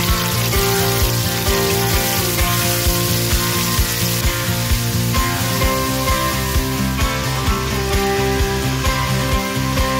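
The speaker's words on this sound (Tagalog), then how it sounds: "At kapag mainit na yung mantika natin, simulan na natin magsote ng meat." Loud, constant sizzling of pork sautéing in hot oil for adobo, a dense crackling hiss close up, with a low rhythmic pulse of music beneath.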